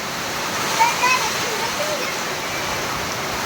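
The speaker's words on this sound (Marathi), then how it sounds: "एवढा जबरदस्त पाऊस चालू आहे" Heavy rain in a thunderstorm with strong winds makes a dense, steady roar like a waterfall, loud and unbroken for the whole stretch.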